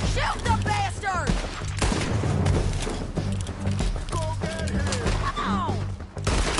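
Gunfire rattles during a shootout in the video game Red Dead Redemption 2, with repeated shots, crashes and horse hooves mixed under loud shouting voices throughout.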